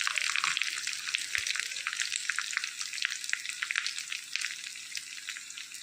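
Onions and a roasted spice mixture sizzle steadily in hot oil for a Kerala-style pumpkin curry, a close, continuous crackle with occasional stirring.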